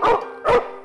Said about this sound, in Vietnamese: lũ chó hoang đầu làng bỗng như nhận được tín hiệu gì đó, bắt đầu sủa ầm lên, inh ỏi đất trời